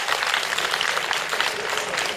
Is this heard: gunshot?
no